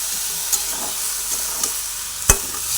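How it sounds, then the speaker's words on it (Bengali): Drumstick flowers fry in oil in a pan while being stirred: a steady close sizzle broken by a few soft scraping stirs and one sharp clack near the end. "একইভাবে সুন্দর করে সজনা ফুল ভেজে নিচ্ছি"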